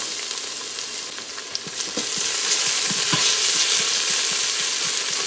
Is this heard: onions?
yes